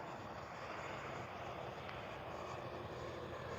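Radio-controlled F-15 model jet with twin 64mm electric ducted fans flying low and slow, a steady whooshing fan whine held at a moderate distance, faint and continuous with no talking.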